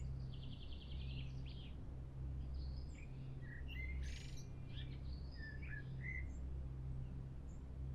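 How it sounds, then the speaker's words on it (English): Evening birdsong in woods: scattered high chirps and short trills, soft and distant, over a steady low drone. "The woods are rich with evening, the last birdsong before they go to their roost for the night."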